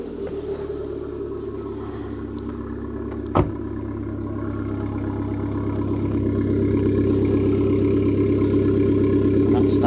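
A standard, unmodified car engine, a Peugeot 107 or Fiat Abarth 595, runs steadily at close range with a low, even hum and one brief knock partway through, growing slightly louder toward the end.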